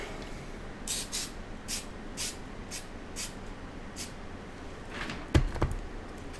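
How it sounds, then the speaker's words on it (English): Several short hissing bursts of spray adhesive from a can, spaced about half a second apart, followed by a couple of close clunks near the end. "Spray it with some adhesive."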